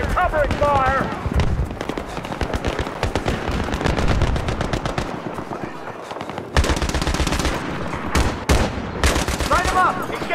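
Battlefield 3 gunfire in the Rock and a Hard Place mission: sustained rapid machine-gun bursts and scattered shots, loud and close, with shouted voices over the shooting.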